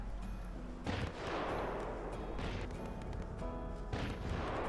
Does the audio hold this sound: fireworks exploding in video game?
yes